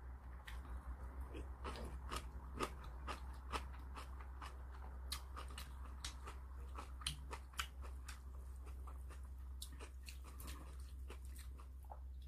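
Crunchy chewing and biting of cold kimchi eaten alongside instant Shin Ramyun dry noodles, with close, repeated crisp crunches over a steady low hum and no talking.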